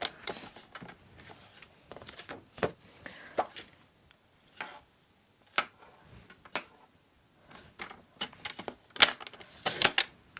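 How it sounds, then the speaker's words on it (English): Card stock being trimmed on a paper trimmer at a craft table, a series of short, sharp clicks and slicing strokes at irregular intervals, close and fairly quiet, with no talking. "Trim the edge off as well."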